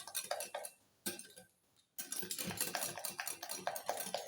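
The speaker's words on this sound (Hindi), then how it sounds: "और इसे मैं अच्छी तरह अंडे को फेंट दूँगी व्हिस्कर की सहायता से" A whisk beats eggs in a bowl for cake batter, making a rapid metallic clatter against the bowl that pauses briefly partway through, then resumes in quick, even strokes.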